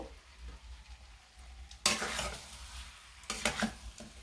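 Mutton with meat masala sautéing in a pan whose bottom is starting to stick, quiet at first, then two loud bursts of sizzling and scraping stirs, close up, with no one speaking.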